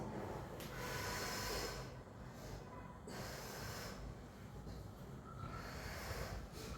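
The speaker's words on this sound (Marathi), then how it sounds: "मोठा श्वास घेऊन फुंकर सोडायचे." Deep breaths and forceful blown exhales during a belly, thigh and waist weight-loss workout, steady close breathy rushes of air repeating through the clip with no talk.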